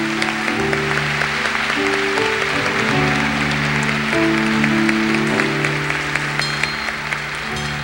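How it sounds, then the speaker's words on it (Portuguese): A church congregation applauding after the Gospel reading: a sustained, dense wash of clapping over organ-like held tones. "Aplaudamos o Santo Evangelho."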